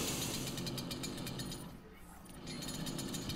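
Chainsaw revving and cutting in the video game DOOM, a loud continuous rasping buzz with rapid pulsing chatter that dips briefly in the middle before roaring back.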